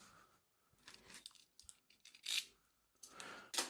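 Sticky tape is torn off the packaging of a Bahtinov mask for a Skywatcher Evostar Pro 80ED telescope, in a few short, close ripping and crinkling bursts with quiet pauses between them.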